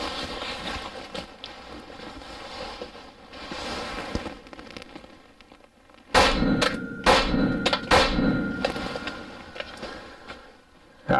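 A Glock 26 pistol with a 4.6-inch aftermarket barrel fires Underwood Xtreme Defender 90 grain rounds outdoors: a quick string of loud, cracking shots after a quieter stretch of wind and ambient noise.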